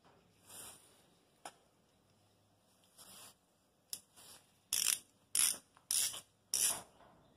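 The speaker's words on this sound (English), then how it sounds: "I'll just give them a little tighten, a little bit at a time." Ratchet clicks as bolts on a Brembo brake caliper held in a vise are tightened, with faint short bursts first and then several louder, close, rapid clicking strokes.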